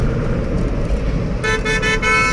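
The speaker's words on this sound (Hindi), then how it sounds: "कौन है भाई हॉर्न मार रहा" A vehicle horn honks sharply in Dehradun road traffic near a police checkpoint, a short loud toot breaking through constant traffic rumble near the end.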